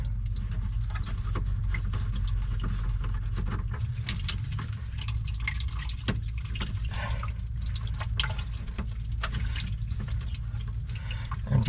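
Water runs and drips from disconnected hoses on an Anderson valve assembly, a steady close splashing trickle with scattered drips and no talk.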